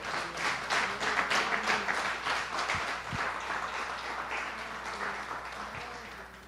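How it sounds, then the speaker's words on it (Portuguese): Church congregation applauding together during a worship service, a dense steady wash of many hands clapping at moderate volume that slowly fades toward the end, with no clear speech. "Será que você pode dar uma salva de palmas ao Senhor?"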